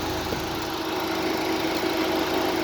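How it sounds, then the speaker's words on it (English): A car engine idling steadily, a smooth, even mid-pitched hum that holds constant at moderate volume with no revving or talk. "Engine runs very well"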